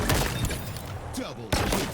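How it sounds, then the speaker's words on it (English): Three-round burst rifle fire in a Halo video game, with quick clustered shots that cut through a busy mix of gunfire, thuds and in-game voices, loud and close. "Nothing satisfies like a 3-round burst"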